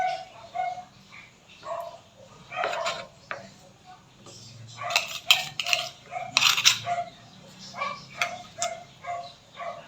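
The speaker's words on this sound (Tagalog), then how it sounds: "Ang ingay ng aming aso." Household dog barking in short, repeated yips and barks amid clinking dishes and utensils from cooking, moderately distant and fairly quiet, with bursts clustered through the middle.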